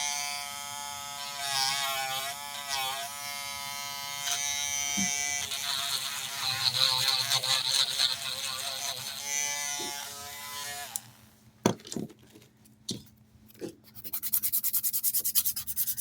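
An electric acrylic nail drill from a Temu acrylic nail kit runs with a steady, close buzzing whine that shifts in pitch for about eleven seconds. It then cuts off, leaving scattered clicks and taps.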